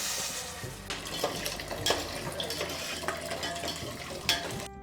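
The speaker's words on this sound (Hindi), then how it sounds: "खिचड़ी में उबाल आ गया है।" Salted khichdi coming to a boil in a pot on a gas stove, giving a steady bubbling, watery rumble with occasional clinks and spoon stirs, fairly close and without talk.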